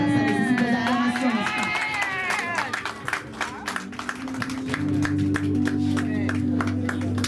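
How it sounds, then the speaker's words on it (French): Congregation at a French church thanksgiving service cheering and clapping, a dense sustained wash of applause and shouts with rapid hand claps throughout, over a steady low organ or music drone. "Alléluia, ça nécessite des acclamations"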